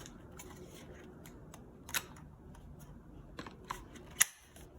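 A 3M respirator cartridge snaps into its facepiece with one sharp click near the end, after a couple of fainter clicks and handling taps, in a quiet room.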